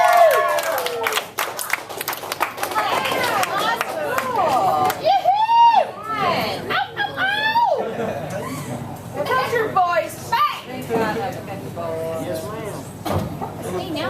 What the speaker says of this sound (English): Let's give it an applause for Chester Chew.